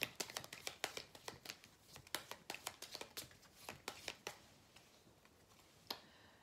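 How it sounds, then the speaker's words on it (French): Oracle cards are shuffled and drawn in a fast run of crisp, close flicks and slaps, thinning out toward the end, with no voices. "On va aller tirer 3 cartes."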